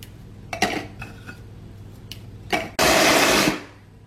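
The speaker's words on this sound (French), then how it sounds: "soit on fait avec un petit mixeur comme ça" Small kitchen mixer crushing speculoos biscuits: a few short clattering pulses, then a loud steady whir lasting under a second before it winds down, with no talking.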